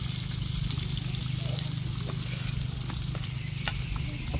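Food frying in a pan with a steady, loud sizzle and faint stirring clicks, cooked while preparing dishes for guests ahead of a ribbon cutting event.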